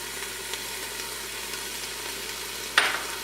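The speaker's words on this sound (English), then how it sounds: "So now you just want to saute these until they're sort of brown" Tomatoes and ginger sautéing in a pan give a steady, even sizzle at close range, with one brief sharp clink near the end; no talk.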